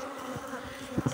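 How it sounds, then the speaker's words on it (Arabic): Honey bees fly busily around the entrance of a new, empty hive, a continuous close buzz with a couple of brief louder passes near the end. "شاهد طيران النحل بكثرة على بوابة الخلية الجديدة"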